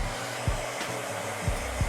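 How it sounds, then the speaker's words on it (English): A hair dryer blows steadily at its hottest setting with a constant airy roar, close by during a barber's haircut, with a few faint clicks and shifts in pitch. "With the hottest heat of the hairdryer"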